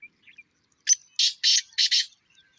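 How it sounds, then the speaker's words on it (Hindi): A partridge calls in a short series of sharp, close squawking notes, four or five bursts in quick succession against silence. "ये जो है मेरा तीतर है, ये तकरीबन 250 तक बोला हुआ है"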